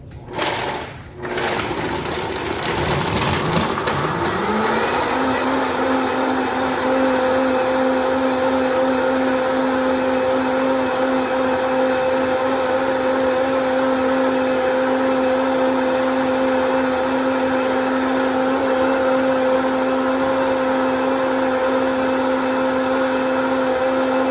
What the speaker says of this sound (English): You need a high-speed blender so that it does the job well.